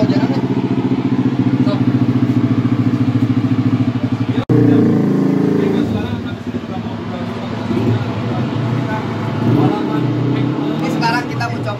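A T-REX stunt motorcycle on a dyno roars loudly, holding a steady high-revving drone before a sharp shift in pitch and continued revving, with people talking in the background.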